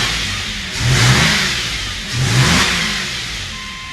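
A 2008 Subaru 3.0L six-cylinder engine, freshly back together after a timing chain repair, revving twice in smooth swells from idle, loud and close with no voices.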